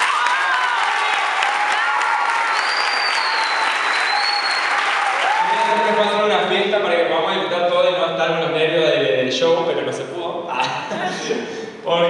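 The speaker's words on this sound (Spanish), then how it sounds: "un fuerte aplauso" A crowd at a tenth-anniversary party for an Afro-samba ballet troupe bursts into loud applause and cheering. Whoops ring out over the clapping, and then voices and lively chatter rise as the clapping thins toward the end.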